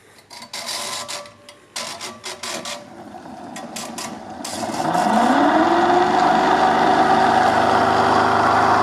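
A series-wound DC motor is started under brake load: a few clicks and clunks are followed by a close, steady electric whine that climbs in pitch as it speeds up, then settles into a loud, constant hum.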